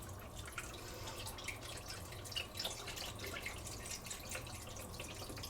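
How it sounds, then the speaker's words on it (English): Beef broth pouring into a pan holding pot roast, gravy and vegetables, a steady faint trickle and splash of liquid lasting several seconds with no talking. "I'm going to add in the rest of the beef broth. Because it didn't fit in the pan."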